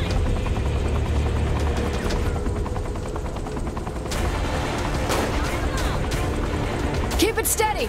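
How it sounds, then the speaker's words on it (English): A helicopter in the video game Saints Row The Third thrums steadily with rapid rotor chop, mixed with bursts of gunfire and voices talking over it. "It's called a helicopter"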